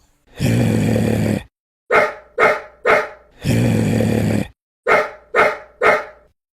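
A dog barking loudly nearby in bursts: a long drawn-out bark, three quick barks, another long one, then three more.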